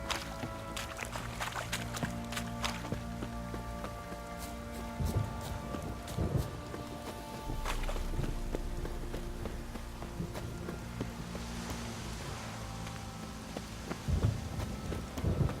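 Steady rain and rolling thunder in The Witcher 3 video game, a continuous downpour with occasional deeper rumbles, heard alone at moderate volume.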